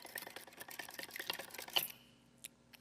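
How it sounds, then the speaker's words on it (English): A handheld plunger whisk pumped up and down through eggs in a bowl, giving a quick run of soft, close sloshing strokes that stop partway, followed by a near-silent gap and one last faint knock. "This is a handy little whisk. You just put it in there and kind of plunge it up and down."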